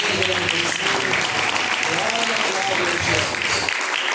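A congregation claps along during a live IPDA church service, a continuous wash of hands under talking and voiced, singing-like tones that rise and fall throughout.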